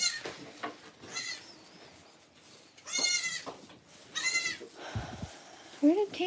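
Goats bleat repeatedly on a goat farm, several nasal wavering calls nearby at irregular intervals, mixed with someone talking and some rustling.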